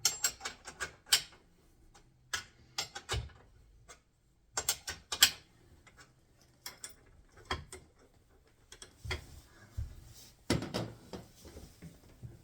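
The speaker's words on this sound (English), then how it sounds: "turning this nut on will pull the shaft through" Wrench turning a nut on a coilover to draw the shaft through on an MGF or Rover Metro, a series of irregular sharp metallic clicks and ratcheting taps, close and fairly quiet with pauses between them.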